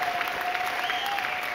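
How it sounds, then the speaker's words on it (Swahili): Steady applause from a church congregation during a fasting worship service, continuous and moderately loud, with a sustained tone running beneath it. "Mpigie Bwana makofi kwa hii neema aliyokupa ya kuwepo mwezi wa 11."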